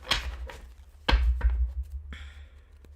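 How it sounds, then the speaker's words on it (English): Tarot cards are shuffled by hand close up, giving a few brief riffling taps and soft thuds with short pauses between them. "Let me get a good shuffle going for you."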